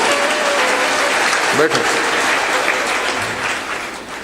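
Steady applause from a seated audience at a religious discourse fills the space, a continuous clatter of many hands with a brief voice cutting in over it.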